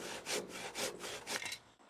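A hand saw cutting through a wooden joist on a cat enclosure frame, four rasping back-and-forth strokes in quick succession, close and fairly quiet, stopping abruptly.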